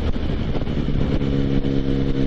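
A motorcycle engine in top gear hums steadily at a fairly constant pitch, close and continuous, with a throaty low rumble and no speech.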